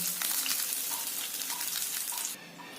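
Aamudi fish being fried a second time in hot oil, a dense continuous crackle with small pops and a faint stirring clink, dropping slightly in level near the end.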